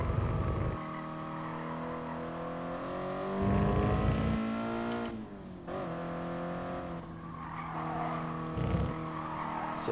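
A race car in Gran Turismo Sport revs loudly with a rising, shifting engine note and brief tire squeal, dipping for a moment before pulling hard again, with no talk over it.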